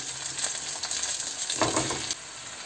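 Chicken pieces returned to a frying pan, a brief close sizzle with a soft rustling burst of stirring partway through.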